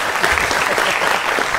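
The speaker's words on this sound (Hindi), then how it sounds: "ताली बजाओ इस पे" Audience applause at a televised Hindi news-debate show, a dense, steady wash of many hands clapping that stays loud and even for the whole short stretch with no one speaking over it.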